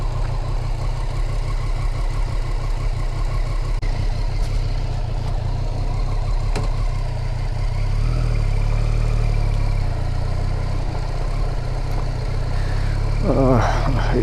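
A Triumph Street Triple motorcycle engine runs steadily while being ridden, a continuous low rumble with a deep harmonic drone that holds even throughout, with a brief higher rattle near the end.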